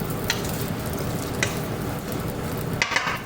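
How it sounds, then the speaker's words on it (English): Pork belly stir-frying in a very hot pan gives a loud, steady sizzle close up, with occasional sharp scrapes and clinks of a utensil against the pan. "get it stir frying, but you wanna have this pan really, really hot"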